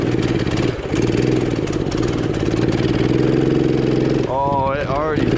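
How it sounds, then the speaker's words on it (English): A 212cc engine swapped into an Axis M200 minibike runs steadily under load, its close, loud mid-pitched drone breaking up near the end as revs rise and fall, with someone talking over it throughout. "it's breaking up because it's actually getting some load on it now"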